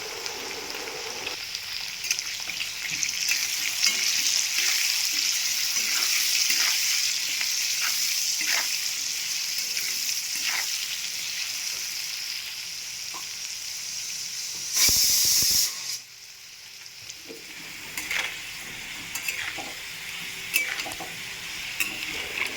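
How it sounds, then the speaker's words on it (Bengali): Small potato pieces fry in oil with salt and turmeric, giving a steady close sizzle and hiss with light stirring throughout and a brief louder burst of spitting near the end. "আলুগুলো ছোট ছোট করে কেটে রেখে দিয়েছিলাম, এবার আমি ভেজে নেব।"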